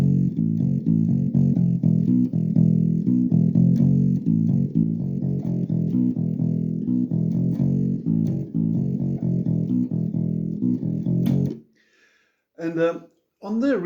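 A bass guitar plays a riff, tuned to standard tuning, as a steady repeating pattern of plucked low notes that is close and loud, then stops near the end, followed by a brief voice.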